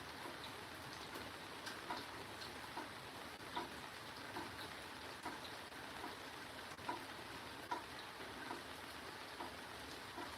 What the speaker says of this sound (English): Now it's just that slow drip of rain. I love that sound too when it's all calming down.